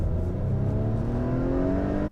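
A 2021 Acura TLX engine revs at full throttle, a loud, close, steadily rising mechanical drone that climbs in pitch before cutting off abruptly at the end.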